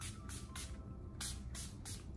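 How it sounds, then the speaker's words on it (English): Urban Decay makeup setting spray hisses out in several quick, short misting bursts with brief gaps between them, close and fairly faint. "I just sprayed this Urban Decay Makeup Setting Spray"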